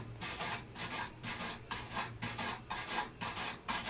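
A wire brush scrubs 1970 Chevy Impala Custom car body metal clean for welding, rhythmic back-and-forth rasping strokes, close and fairly quiet, about seven strokes in a steady pattern.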